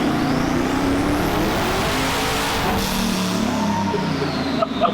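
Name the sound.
boosted AMC Pacer engine revving during a dyno pull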